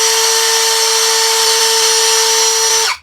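A Tankmor cordless drill spins at its lowest speed setting, giving a steady, loud motor whine that holds evenly for about three seconds before cutting off and winding down, close up with no talking.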